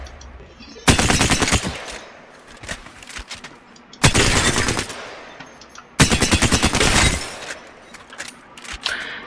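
An Alternator submachine gun in Apex Legends fires three loud, rapid full-auto bursts, each lasting about a second or more, separated by short pauses.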